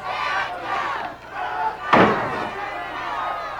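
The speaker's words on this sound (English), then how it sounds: "a big crowd on hand here at the Sportatorium in Dallas" A big crowd at a USWA pro wrestling event in the Dallas Sportatorium roars and shouts loudly throughout, with a sharp slam-like impact cutting through midway.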